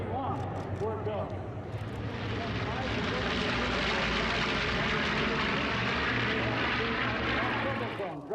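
A US strategic bomber flying over EAA AirVenture Oshkosh 2017 gives a loud, steady, broad jet roar that swells slightly and holds for several seconds, heard alone.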